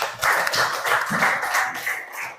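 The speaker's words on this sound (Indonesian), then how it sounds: "tepuk tangan dulu untuk temannya" Classmates clap for ranked students in a classroom, a short burst of scattered hand claps from a small group, fairly close and steady throughout.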